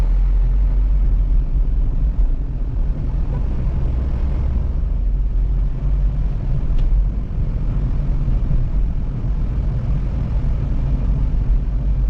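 A Honda City car drives at a spirited pace, a steady low rumble of engine and road noise heard from inside the cabin, continuous and unbroken.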